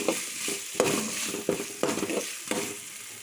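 Ginger-garlic paste sizzles in a hot pan for a masala curry, with a hissing fry throughout and repeated stirring scrapes and clinks roughly every half second; nobody speaks.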